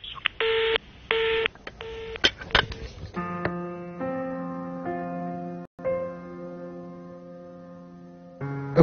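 A phone number is keyed in as a series of short DTMF beeps, and then steady, sustained ringback tones follow, broken by one short gap.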